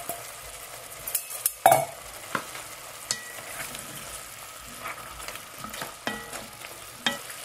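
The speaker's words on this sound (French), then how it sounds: "dernière opération, on ajoute les fèves" Broad beans tip into a lamb tagine simmering in a cooking pot, bringing scattered stirring clatters and soft sizzling at close range, with quiet bubbling between the sharp knocks.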